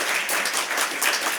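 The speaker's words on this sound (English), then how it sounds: "Please join me in giving a warm round of applause to Grace Lee." Warm round of applause from an audience at a Massachusetts chamber of commerce economic outlook event, steady dense clapping that fills the whole moment without pause.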